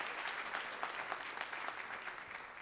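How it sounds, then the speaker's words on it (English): A theater audience at the City of Destiny Awards in the Pantages claps in a full, continuous round of applause, even and sustained without any voices on top. "If you've ever been to an event here at the Pantages before, please show it by clapping."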